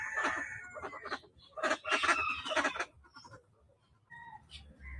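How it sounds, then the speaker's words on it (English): Silky bantam chickens at a bird sanctuary in Africa cluck and squawk in several quick bursts, close by, followed by a few softer calls and a low background hum. "These are called bantam chickens, silky bantams."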